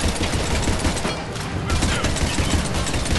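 Tempest submachine gun firing in Mass Effect 3 on Insanity difficulty, a dense continuous rattle of rapid shots with a brief dip midway, loud and close.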